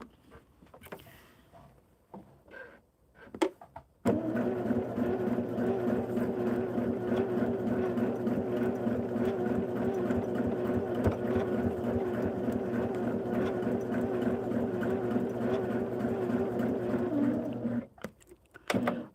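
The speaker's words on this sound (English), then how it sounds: "we'll do the circle and stitch it on and be done with it" Sewing machine stitching a fabric circle onto a quilt block with curved seams, a steady close mechanical hum and rapid needle rhythm running continuously for about fourteen seconds after some faint handling noises, no talking.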